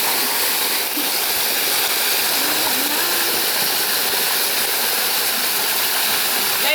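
Continuous broadband rush of a waterfall at a steep forest falls, a dense steady roar filling the whole stretch with no breaks and no voices.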